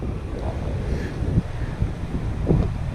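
Wind blows outdoors beside a creek in Kentucky during fishing, a steady blustery rush buffeting the microphone with low rumbling gusts that swell and fade, with no talking.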